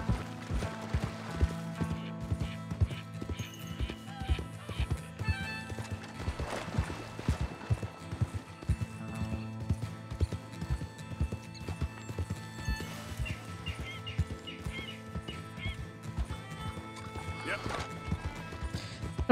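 Horses in Red Dead Redemption 2 gallop in a fast, steady clip-clop of hooves with occasional neighs and creaking tack, close and continuous, while a voice talks at times.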